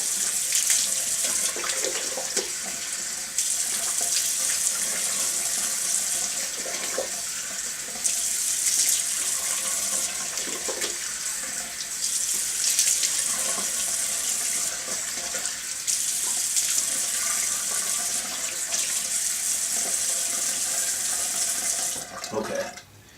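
Tap water runs steadily into a sink while a face is washed, a continuous close splashing hiss with small shifts as hands move through the stream, lasting the whole stretch before cutting off at the end.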